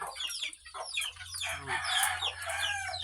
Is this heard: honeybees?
no